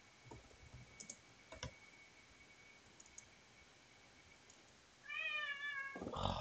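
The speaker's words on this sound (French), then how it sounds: "Le chat." A cat meows near the end in a homemade mini-game, a short loud tonal call following several seconds of faint ticks and clicks, with no talk.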